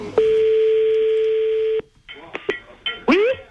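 Telephone dialing to call a contestant on a French TV show: a long steady tone, then a short quick series of beeps, followed by brief voices and warbling line sounds.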